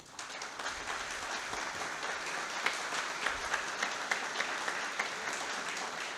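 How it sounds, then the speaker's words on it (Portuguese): A crowd applauding at a public event in Brazil, steady dense clapping from many hands at a moderate distance, continuing throughout without talk. "do deputado federal Gilson Marques, a quem eu peço uma salva de palmas."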